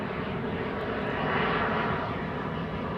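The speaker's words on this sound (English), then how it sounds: "Next up should be Lufthansa Flight 987 to Frankfurt and A319." A Lufthansa Airbus A319 takes off from runway 24 at Amsterdam Schiphol, its jet engines a continuous roar that swells slightly midway, heard at a distance with no talking.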